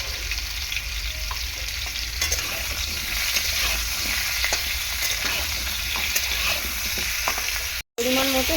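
Potatoes sizzle in hot oil with salt and turmeric, a steady close crackle broken by scraping stirs, then a brief silent gap near the end before the sizzle returns.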